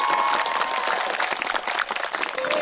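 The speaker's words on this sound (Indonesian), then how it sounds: "Kasih tepuk tangan yang ikhlas anak-anak kita." Audience applause for children at an Indonesian charity concert for Palestine, a dense, steady wash of many hands clapping close and loud, continuing evenly from start to finish with no talk over it.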